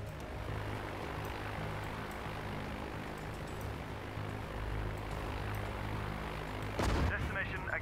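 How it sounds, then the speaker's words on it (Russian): A propeller aircraft engine drones steadily from the Sudden Strike 4 strategy game, a continuous mid-loud hum under other battle ambience, ending with a brief sharp burst near the close. "Так, вот наш самолетик где-то."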